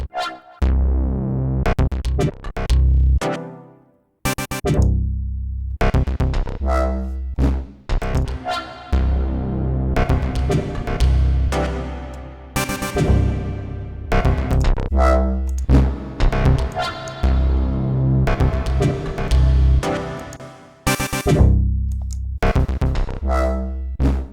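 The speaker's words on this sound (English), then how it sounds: "The bass growls." A dry, growling synth bass plays a sequenced pattern of punchy notes with short gaps, loud and upfront with no reverb tail.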